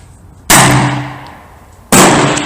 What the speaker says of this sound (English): Shooting a 45 Long Colt on this massive revolver with a muzzle brake on feels like shooting 22